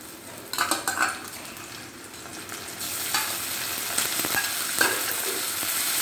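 Ginger-garlic paste and ground spices stir-fry over reddish-browned onions in a pan, a steady close sizzle broken by scraping strokes of a spatula and a few metallic clinks, with no voices.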